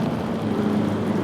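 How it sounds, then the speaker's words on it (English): A steady, muffled Porsche Spyder engine in a video game hums and drones at an even pitch, heard briefly and without talking. "I think it's the sound of a Porsche Spider"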